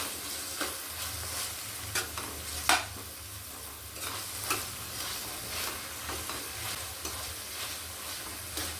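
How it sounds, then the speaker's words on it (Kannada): Masala for palak paneer frying and being stirred in a pan, a steady soft sizzle with occasional scraping stirs, close and fairly quiet. "ಅದನ್ನು ಚೆನ್ನಾಗಿ ಫ್ರೈ ಮಾಡಬೇಕು."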